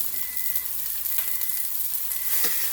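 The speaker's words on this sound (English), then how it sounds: "I'm pan frying them in some olive oil" Steady, crackling sizzle of T-bone steak frying in hot olive oil in a skillet, close and continuous with no talking.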